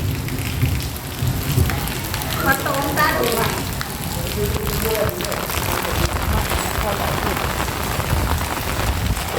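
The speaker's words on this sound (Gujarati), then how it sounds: "વરસાદ ચાલુ છે." Steady rain during a thunderstorm patters on surfaces throughout, with a voice talking intermittently over the constant hiss of falling water.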